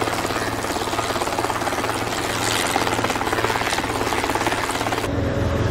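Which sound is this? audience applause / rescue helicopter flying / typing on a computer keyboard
rescue helicopter flying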